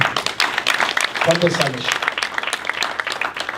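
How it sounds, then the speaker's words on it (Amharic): Audience applauding at a theology school graduation ceremony in Houston, a crisp crowd of clapping that continues under a voice speaking over it. "አጨብጭቡ።"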